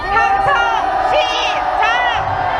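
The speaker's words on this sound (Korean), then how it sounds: "외교부를 바라보고 함성을 질러주십시오" A protest crowd outside the foreign ministry roars in sustained shouting, loud and close, with rising whoops and yells layered over the steady mass of voices.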